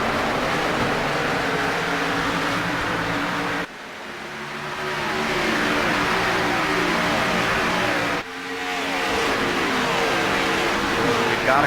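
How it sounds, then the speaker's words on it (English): NASCAR Cup cars roar in a racing video game at Charlotte Motor Speedway, a loud, dense, continuous engine drone of many cars together, briefly dipping twice as the sound shifts. "Let's listen to the roar of these Cup cars."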